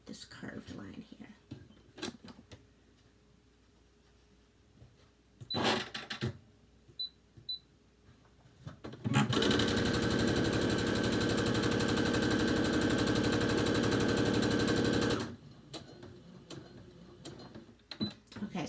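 A sewing machine back-stitching a fabric mask, a few short bursts of stitching and then a loud, steady run of about six seconds, with a person talking between the bursts.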